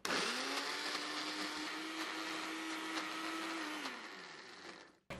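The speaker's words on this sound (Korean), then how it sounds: "믹서기에다가요 한번 갈아주겠습니다." An electric kitchen blender grinds corn salad sauce made with corn and oligosaccharide syrup, a loud steady whirring that runs for about four seconds before winding down and cutting off.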